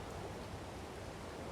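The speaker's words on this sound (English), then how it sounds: "Oh boy, it's still raining." Steady, even wash of rainfall in Farming Simulator 22, a continuous broadband hiss with no pauses, heard alone at moderate loudness.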